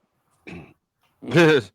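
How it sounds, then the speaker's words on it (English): Two short throaty bursts, a brief rough clearing followed by a louder, longer voiced grunt, close and alone in silence. "go ahead and clear your throat"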